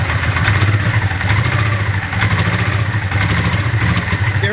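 A Honda Ascot V-twin motorcycle with some buildup in its engine idles very low, giving a steady, close rumble with a faint uneven pulsing clatter and no talking.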